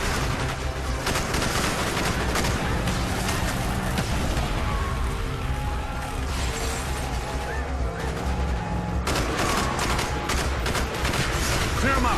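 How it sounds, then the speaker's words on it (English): Dense, continuous gunfire rages through a street fight as covering fire is laid down, loud overlapping shots and bursts filling the scene, with voices partly buried beneath. "Bowman, Carlos, lay down covering fire."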